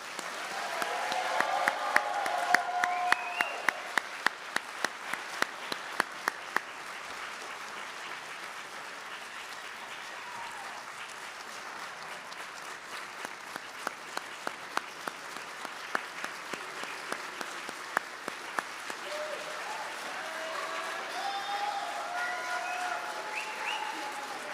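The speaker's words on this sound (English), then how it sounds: "Ladies and gentlemen, let's give one more round of applause to our brand new second lieutenants" A crowd at an Air Force ROTC commissioning ceremony at Charleston Southern University applauds new second lieutenants, with a full burst of clapping that thins into scattered individual claps midway, then swells again toward the end.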